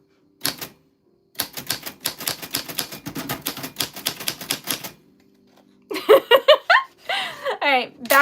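Rapid bursts of manual typewriter keystrokes clatter close and loud in two runs, with a brief pause between them, followed by giggling and laughter.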